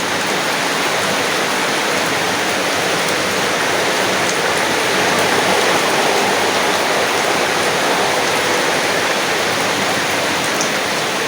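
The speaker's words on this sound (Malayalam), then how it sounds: "നട്ടുച്ചയ്ക്ക് മഴ പെയ്യുന്നു" Steady, dense rainfall pours down without a break, a loud hiss of drops striking surfaces close by.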